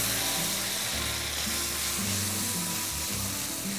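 Ketchup stir-frying in hot oil in a wok, a steady dense sizzle with low scraping stirs underneath, continuous and close throughout.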